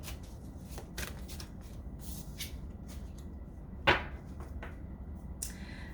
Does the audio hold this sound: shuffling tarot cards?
yes